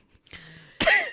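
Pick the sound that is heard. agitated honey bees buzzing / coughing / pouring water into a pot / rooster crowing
coughing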